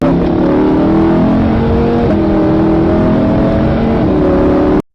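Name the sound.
car engine revving while accelerating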